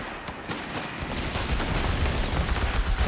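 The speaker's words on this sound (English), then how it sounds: "Heavy mortar now for Anthrax." Heavy mortar fire in the World War II strategy game Company of Heroes 3, a rumbling barrage of booming thuds and blasts that builds in loudness, with battle noise layered underneath and no talk.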